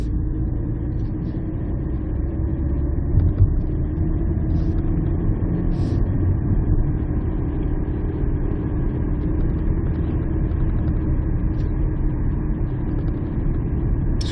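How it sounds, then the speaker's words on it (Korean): Steady low rumble of a Kia Stonic small car driving, constant engine and road noise filling the cabin throughout, with no talking. "그냥 뭐 소형차 움직이는 그런 소음 수준이고요."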